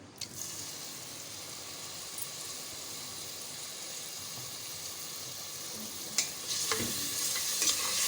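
Three medium peeled tomatoes hiss in hot oil in a kadhai, a steady moderate sizzle that holds evenly, with a few louder stirring scrapes and spatters near the end.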